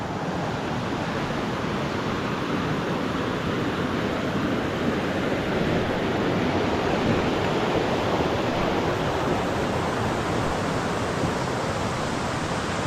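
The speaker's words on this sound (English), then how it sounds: "We'll say goodbye to the rushing water" Steady, broad rushing water roars continuously and evenly throughout, like a nearby stream or cascade on a Malans Peak hiking trail, with no voices.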